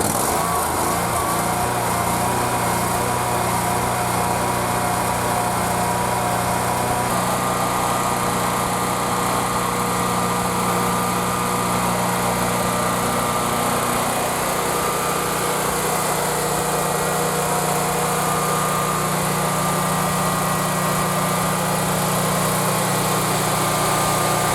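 A Generac GP17500E portable generator runs steadily and loudly close by, its engine hum shifting pitch as it comes up from idle to normal speed and then holding a constant drone.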